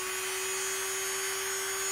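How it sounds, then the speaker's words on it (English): A drill press runs at about half its maximum speed with a small 0.9 mm bit, making a steady, loud motor whine with a constant pitched hum throughout and no voices. "Then we start the drill press at about half the maximum speed."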